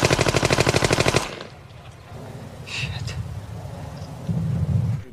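Soldiers fire on prisoners in a Second World War Easy Company scene: a loud, rapid burst of automatic gunfire for about a second, then a low rumbling background.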